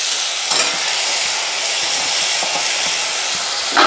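Boiled, drained banana flower is tipped into a pan of softened onions, raising a loud continuous hissing sizzle with a thud at the start and faint stirring scrapes.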